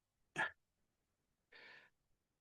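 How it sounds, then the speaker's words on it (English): One sharp, close sneeze bursts out in a quiet room, followed about a second later by a softer breathy exhale. "I'm going to sneeze"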